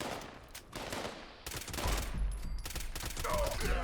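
A suppressed pipe gun fires in the Fallout 76 video game, a dense and continuous run of muffled rapid shots over steady game background sound.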